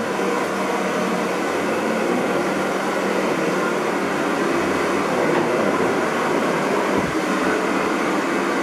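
Hair dryer blowing to dry a customer's hair before spike styling in a barbershop, a loud continuous airy roar held steady throughout without talk.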